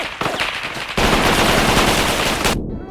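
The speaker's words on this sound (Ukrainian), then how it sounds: "Ой, стріляють!" Loud, close gunfire in the Roblox game Lost Front: rapid automatic bursts crackle, then a sustained barrage roars before cutting off abruptly.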